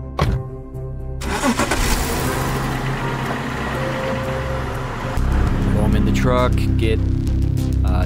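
A truck engine cranks and catches, then runs loud and steady before revving harder near the end, with traffic-like rumble and clattering around it.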